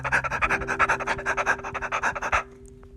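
A dog panting in short, quick, rhythmic breaths, close and clear, about a dozen rapid puffs that stop abruptly near the end.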